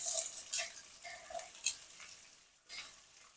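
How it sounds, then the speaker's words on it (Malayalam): Onion and capsicum are stir-fried in a pan for dragon chicken. Faint, scattered scrapes and clinks of a utensil against the pan rise above a quiet background, with a few sharper taps. "ഇതൊന്ന് ഇളക്കിയിട്ട് ഇപ്പൊ തന്നെ ഉള്ളി ഇട്ട് കൊടുക്കാം"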